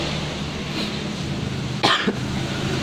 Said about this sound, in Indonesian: Maaf ya agak batuk.